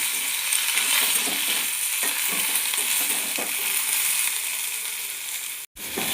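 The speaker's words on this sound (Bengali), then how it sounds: "এই সবজিগুলোকে ভালো করে মিশিয়ে নেব।" Vegetables, fried potatoes with pumpkin and beans, are stirred in a hot pan, a steady close sizzle with repeated scraping strokes of the spoon, the sound dropping out briefly near the end.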